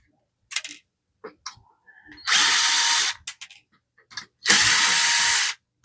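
A power screwdriver backs a screw out of an HP ENVY 6455 printer during disassembly, with two loud sustained whirring bursts separated by short clicks and handling taps.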